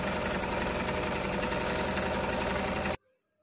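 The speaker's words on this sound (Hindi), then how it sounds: "इसके ऊपर हमारा लाइनिंग कपड़ा रख के 1/2 इंच पहला सिलाई करके लेंगे।" A sewing machine runs steadily, stitching lining fabric onto the main fabric of a frock with a half-inch seam, a close, even mechanical whir that hums for about three seconds and then stops abruptly.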